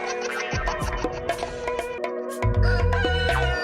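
A person imitates a chicken, giving repeated clucking and crowing-like calls in a quick, lively run, close and fairly loud, with a louder burst near the end.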